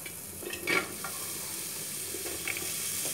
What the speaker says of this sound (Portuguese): Coloquei aqui o azeite para esquentar para poder fritar a nossa cebola.